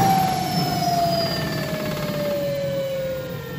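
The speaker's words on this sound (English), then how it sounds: "the like high-pitched whine of an electric motor is a pretty cool sound as well" Electric motor of a converted vintage Vespa 50 Special scooter gives a clear, steady high-pitched whine that slowly drops in pitch, over a low background rumble.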